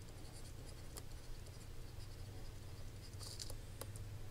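Pen or pencil scratching across paper as complete sentences are written out by hand during a chi-square goodness-of-fit lesson; faint, continuous scratchy strokes with a few sharper ticks, steady under a low background hum.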